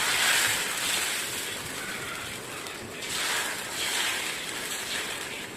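Rice batter for ghavane poured onto a hot oiled tawa, giving a continuous loud broadband sizzle that swells and eases in waves, with no voices over it.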